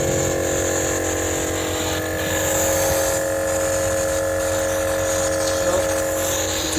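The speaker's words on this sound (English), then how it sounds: "There goes the compressor." An air compressor for a HornBlasters 244 train horn kit installed on a GMC truck runs continuously, a steady buzzing motor whine with a brief dip midway, close and loud.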